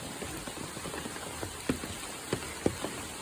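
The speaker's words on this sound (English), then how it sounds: "the rain's intensifying a little bit, as promised." Rain falls steadily on a surface, a dense soft patter with a few louder nearby drop impacts standing out, no voices.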